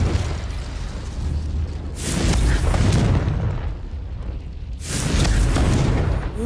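Confringo blasting spell in Hogwarts Legacy detonating as loud, booming explosions, two heavy rumbling bursts with a brief lull between them.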